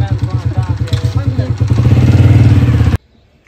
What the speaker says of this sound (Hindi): मोटरसाइकिल की आवाज आ रही है